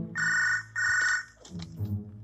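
A telephone rings in Mdickie's Prison video game, two long electronic ring bursts back to back, then it stops and a low hum with faint voice-like murmur follows.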